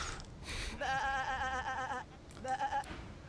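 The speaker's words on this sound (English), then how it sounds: "I could have had a meaningful conversation with the sheep" Sheep in the video game Divinity Original Sin II let out two wavering, nasal bleats, a longer one followed by a shorter one after a brief pause, fairly close and clear.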